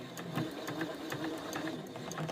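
A sewing machine runs a short basting stitch across the top of a zipper pouch with a waterproof lining, a steady close mechanical chatter of needle strokes that holds the opening closed.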